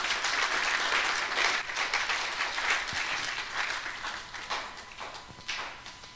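A church congregation claps together in sustained applause that stays dense and fairly loud, easing off slightly toward the end.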